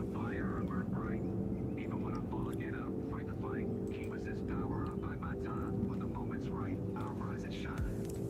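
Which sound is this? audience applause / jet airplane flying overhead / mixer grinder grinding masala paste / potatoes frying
jet airplane flying overhead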